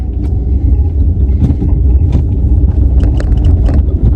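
A motorbike engine runs during a riding lesson, a loud, close, continuous low rumble with slight fluctuations and no voices.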